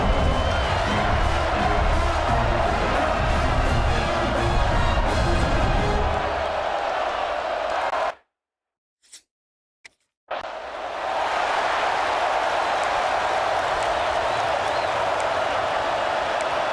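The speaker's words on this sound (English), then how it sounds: "Listen to the crowd energy here in the early going." A video-game college football stadium crowd cheers and roars loudly and continuously, briefly cutting to near silence midway before the cheering resumes at full volume.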